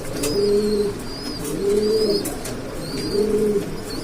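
A pair of Johnson bloodline racing pigeons coo close by, repeating soft throaty phrases in a steady rhythm about every second and a half, with no talking.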